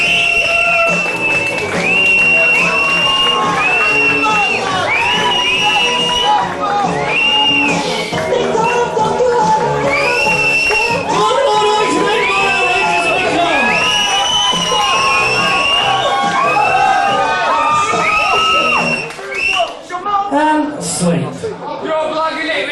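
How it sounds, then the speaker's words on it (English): Audience at a British comedy stage hypnosis show cheers, whoops and applauds loudly and continuously, with laughter and shouting mixed into the crowd noise, easing slightly near the end. "Come on, put your hands together and welcome Michael Jackson! Come on, the more noise you make, the more outrageous it becomes."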